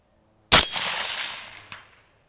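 A single sharp gunshot fired at a target 301 yards away, a loud crack that decays into a long echo, with a faint metallic report arriving about a second later.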